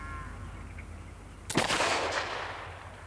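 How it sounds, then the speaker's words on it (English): An antique 1853 double-barreled percussion cap muzzle-loading gun made in London fires a single sharp, loud report that rings briefly after a quiet lead-in, heard alone with no talk. "This is a double-barreled percussion cap muzzle-loading gun made in London by Charles Lancaster in 1853."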